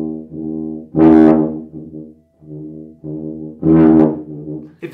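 A tuba plays a phrase with an overdone, harsh accent, in which the attacked notes swell into loud, blaring blasts between softer sustained tones. It is close and solo, with no talking.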